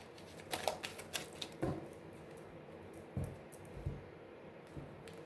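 A deck of oracle cards being cut, with soft quick riffling clicks and a few light taps, close but faint over a quiet room hiss.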